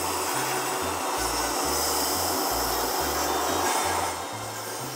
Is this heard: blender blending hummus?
yes